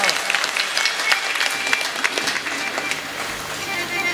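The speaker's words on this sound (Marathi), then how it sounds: "आमच्या लाडक्या बहिणींसाठी टाळी वाजवा." A kirtan audience bursting into applause, dense rapid clapping from many hands that holds steady and then slowly thins, with some voices mixed in.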